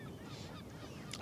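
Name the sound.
honking water birds, some kind of duck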